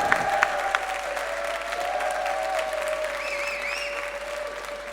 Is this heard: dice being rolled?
no